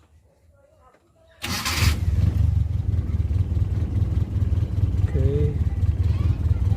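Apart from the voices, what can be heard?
Suzuki Carry car engine starting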